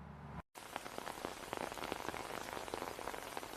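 Steady rain falls hard on a surface with dense patter and scattered louder drops, close and continuous after a brief silent gap at the start.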